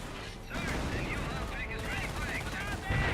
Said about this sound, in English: Mortar drops.